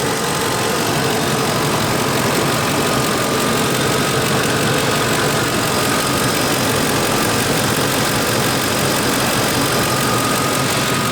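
A Ford truck engine idles loud and close, with a steady, unbroken rumble and a faint mechanical knock running through it.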